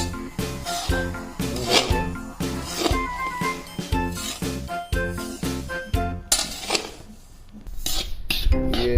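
A metal spoon stirs semolina (suji) roasting in a pan for upma, giving rapid, close, repeated clinks and scrapes against the metal over several seconds, with steady background music behind.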